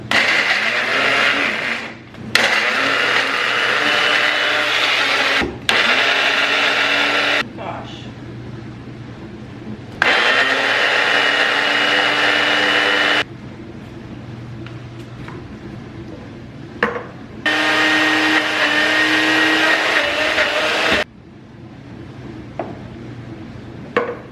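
A blender whirs through sweet potato brownie batter thinned with coconut milk, running in several loud bursts separated by pauses, with clinks of dishes and a person talking in between.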